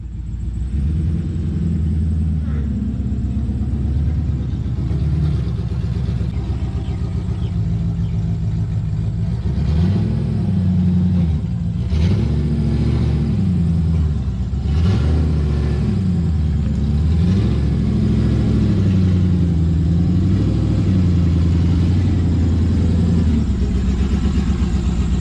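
LS-engined Nissan Patrol with power steering, a steady loud engine drone with rising and falling revs as it is manoeuvred, close and continuous throughout.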